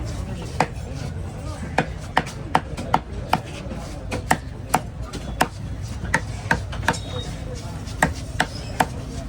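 A big trevally is cut up by a fish cutter at Kasimedu, with a regular series of sharp, close knife chops on a board. Background voices murmur under the chops.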